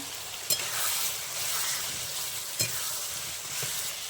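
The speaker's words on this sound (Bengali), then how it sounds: "এখন আমি কেটে রাখা কচুগুলো দিয়ে দিচ্ছি। কচুগুলো দেওয়ার পর আমি খুব ভালোভাবে কষিয়ে নেব।" Cut taro pieces sautéing in hot spiced oil for a fish curry, giving a steady close sizzle with a few sharp stirring scrapes and clacks spread through.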